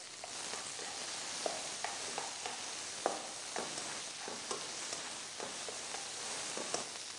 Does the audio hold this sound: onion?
yes